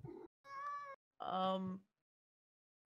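A person's voice imitating a cat, giving two nasal meows separated by a short pause, close and clear with no other sound.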